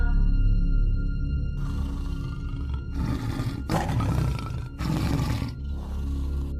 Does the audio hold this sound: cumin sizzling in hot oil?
no